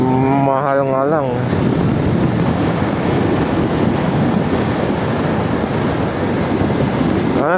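Heavy wind buffeting the microphone while riding a Honda CB200X motorcycle on a road in Taiwan, a loud, continuous roar with engine hum underneath, and a short tonal whine near the start.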